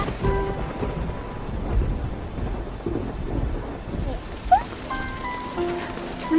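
Rain falls steadily in a thunderstorm, a continuous patter with low thunder rumbles, while background music and brief voices play over it.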